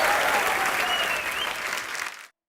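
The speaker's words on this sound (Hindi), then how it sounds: "जोरदार तालियां।" Loud, dense applause from an audience, continuous clapping with some cheering over the top that holds steady and then stops abruptly.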